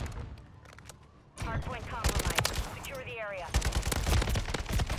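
Gunfire in the Modern Warfare 3 video game, rapid bursts of shots in loud clusters, with people talking over the shooting.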